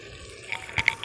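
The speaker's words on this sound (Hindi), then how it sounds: "तो अब मैं इसमें आलू डालने लगी हूँ।" Boiled potatoes drop into a pot of water, giving a few close watery splashes and drips, brief and moderately loud, with no voices.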